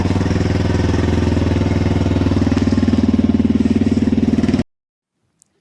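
A motorbike engine runs steadily with a fast, even pulsing thrum for several seconds, fairly loud and close, then cuts off abruptly into silence.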